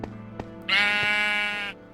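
A Minecraft sheep lets out one long, loud bleat after two soft clicks, in a Skyblock game.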